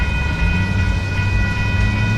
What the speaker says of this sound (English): Train coming, train